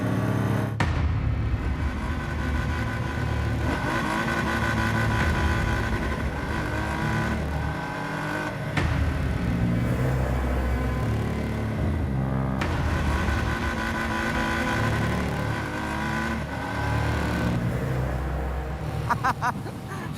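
A Triumph Rocket 3 motorcycle with traction control switched off revs hard and accelerates in a loud, continuous engine roar, rising and falling through several surges with brief gear-change dips.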